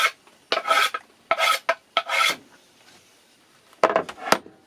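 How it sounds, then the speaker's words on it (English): Knife blade scraping across a cutting board to clear leftover ginger, heard as about five separate rasping strokes, close and fairly loud, with quiet pauses between them. "I'm going to scrape my cutting board."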